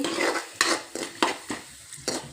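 Chana dal and urad dal frying in a pan, with a run of sharp scraping stirs at a steady rhythm over a light, close sizzle; no one speaks.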